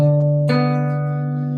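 A steady synthetic tone jumps up a sixth to a brighter, higher note that rings on and slowly fades.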